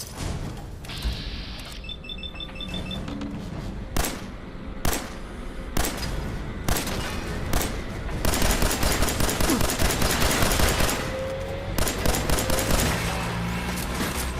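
Dense Fallout 4 video game gunfire: sustained rapid automatic shooting and heavy shots, loud and continuous, with clashing impacts and game effects throughout.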